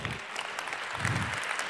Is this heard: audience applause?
yes